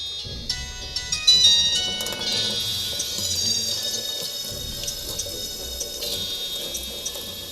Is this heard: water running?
yes